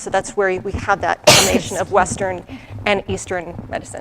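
A single sudden sneeze bursts out partway through an indoor interview, loud and close, cutting across steady conversational talk that continues before and after it.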